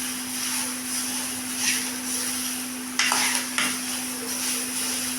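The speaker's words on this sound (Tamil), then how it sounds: "இது தக்காளி இந்த இதெல்லாம் போட்டு வணக்கி வர சரியாக இருக்குது" Tomatoes sautéing in a pan with a steady sizzle of frying, broken now and then by short scraping stirs of a spoon against the pan, heard up close with no talking.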